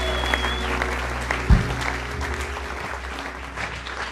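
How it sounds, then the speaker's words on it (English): A church congregation at a Sunday morning family service gives a big round of hand clapping, a broad, moderately loud patter that lingers under a low hum with a brief thump partway through. "let's give Jesus one more massive hand clap across this place"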